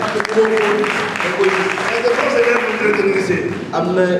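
Church congregation applauding and cheering in worship, a sustained dense wash of clapping and raised voices that holds steady for several seconds, with sung or called-out tones running through it.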